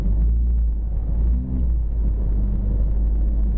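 Deep, steady rumble of a 2013 Shelby GT500 engine held at launch control revs, a low, even drone throughout with a brief dip in the middle.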